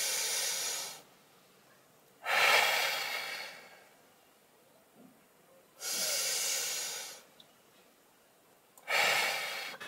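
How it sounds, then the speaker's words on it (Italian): Slow, deliberate breaths taken close to the microphone during a smartwatch breathing exercise: four loud, airy hissing exhalations and inhalations, each lasting one to two seconds, separated by quiet pauses. "dovete inspirare ed espirare finché lui non ha finito il monitoraggio"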